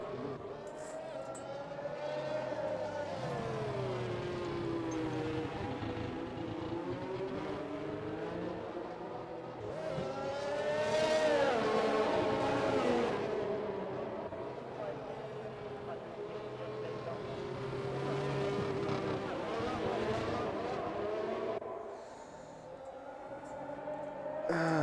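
Racing cars bunched behind a safety car in the F1 2021 video game drone with layered engine tones rising and falling, a continuous close buzz under talk.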